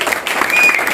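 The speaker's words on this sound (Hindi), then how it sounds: "मैं आप लोगों से गुजारिश करूंगा कि आप इनके लिए जोरदार तालियों से इनका स्वागत करें" A rally crowd greets a speaker with a burst of applause, dense overlapping hand claps forming a loud steady roar for about a second.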